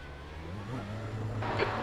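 A car engine approaches in a sim racing game, a mid-pitched drone that builds gradually in loudness and rises slightly in pitch near the end.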